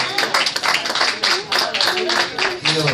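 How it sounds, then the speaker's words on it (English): A church congregation claps their hands together in a rapid, rhythmic burst of sharp claps during a worship service, with a voice speaking underneath. "Give him a big hand clap"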